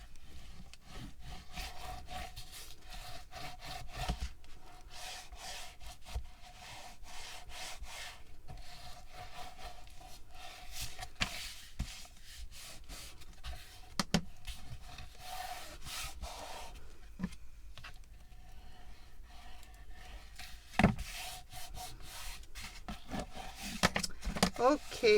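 A squeegee rubs and scrapes across tea bag paper being smoothed onto a gutted book's cover, giving steady, repeated scraping strokes with scattered clicks and light handling noise throughout.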